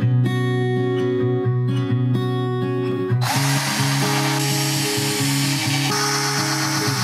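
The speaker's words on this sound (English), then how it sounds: "I'm going to drill all my pilot holes, start screwing it together" A power drill whirs steadily as it drives screws into wood while building a frame in a permaculture food forest, the motor loud and close, pitch shifting between bursts and then giving way to a rougher grinding whine.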